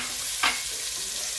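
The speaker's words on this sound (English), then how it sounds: "in the hot pan, with oil, I'm going to go ahead and toss in my onions. Let this fry up some" Onions frying in hot oil in a pan, a constant close hiss of sizzling with one brief clink or toss partway through, no voices.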